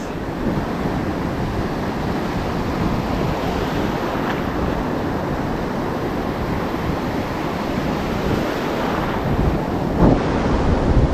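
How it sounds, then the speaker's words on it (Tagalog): Constant heavy roar of big surf pounding the shore, broad and loud throughout, with wind buffeting the microphone. "pero yung alon mamaw grabe kalalaking alon"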